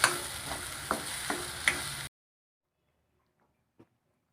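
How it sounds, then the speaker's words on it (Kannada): Masala frying in oil for a hotel-style snake gourd gravy, a close hissing sizzle with a few soft stirring clicks for about two seconds, then near silence. "ಮಸಾಲೆ ಹಾಕ್ಕೊಂಡು ಒಂದು 2 ನಿಮಿಷ ಬಾಡಿಸ್ಕೊಳ್ಳಿ ಇದರಲ್ಲಿ ಎಣ್ಣೆಯಲ್ಲಿ"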